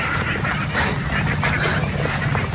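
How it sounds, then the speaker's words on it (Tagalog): Ducks quack on a farm, a loud, continuous, overlapping chorus from a crowded flock, close by, with no clear gaps. "Pahirapan to mga itik."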